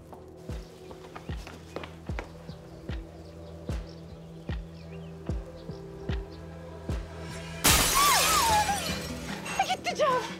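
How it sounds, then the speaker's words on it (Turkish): Steady thudding footfalls plod along, then a sudden loud crash of window glass shattering from a thrown stone bursts out, followed by scattered tinkling and faint voices. "Melike Hanım taşı atıp indirdi camları."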